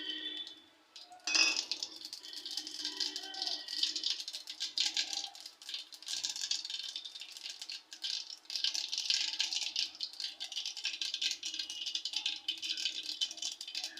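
Mustard and cumin seeds crackling and popping in hot oil in a pan, a steady dense rattling patter that continues for the whole stretch with one louder clink early on.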